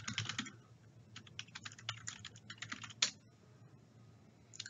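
Login details are typed on a computer keyboard in short bursts of soft, close key clicks, with brief pauses and one sharper tap along the way.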